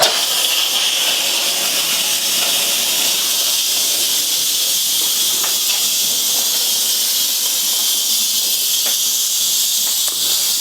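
A rice cooker vents steam in a loud, continuous hiss that holds steady throughout, with faint clicks and rattles beneath it and no talking.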